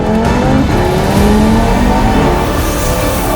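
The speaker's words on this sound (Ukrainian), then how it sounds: "Коли ти чуєш 5 циліндрів, тебе це має торкати." A tuned Audi RS3 8V2 with over 700 horsepower revs hard and loud with a raspy five-cylinder growl, rising pitch close by, no talking.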